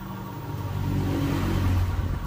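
A cheap used electric scooter with a new battery has its motor running, heard close as a steady whirring hum that swells slightly and stays smooth and even throughout.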